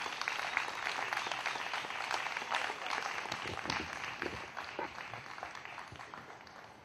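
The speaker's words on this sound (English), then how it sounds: "please welcome him with a big round of applause" An audience claps to welcome a speaker at an evening event, a lively spread of individual hand claps that starts strong and gradually thins and fades over several seconds.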